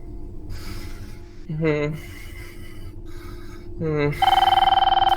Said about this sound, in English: ringing a plastic box. Okay, it's a phone